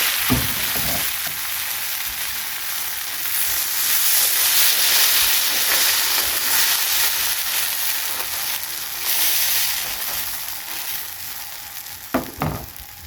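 Spring onion and carrot pancake frying in a pan, a steady loud sizzle and hiss that runs unbroken throughout, with a couple of sharp clinks near the end and no talking.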